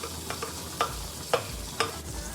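Butter and garlic sizzle over low heat in a frying pan, a soft steady frying hiss broken by a few light clinks of stirring, with no voices.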